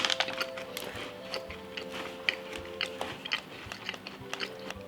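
Close crunchy bites and chewing on a thin, crisp chocolate cookies-and-cream cookie, with sharp cracking snaps at irregular intervals over soft mouth sounds and faint background hum.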